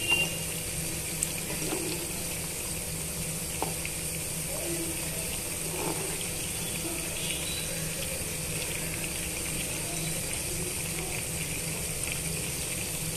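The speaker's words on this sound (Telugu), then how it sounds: "ఇప్పుడు చికెన్ పీసెస్ అన్నీ కూడా బాగా వేగిపోతున్నాయండి" Chicken pieces for street-style chicken 65 deep frying in hot oil give a steady, close bubbling hiss. It runs unbroken, with only a few faint knocks under it.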